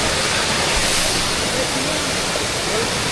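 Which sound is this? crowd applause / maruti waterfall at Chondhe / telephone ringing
maruti waterfall at Chondhe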